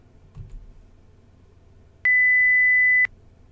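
A single steady high-pitched test tone from a sensory memory experiment sounds for about a second, clean and loud against near silence, after a faint click.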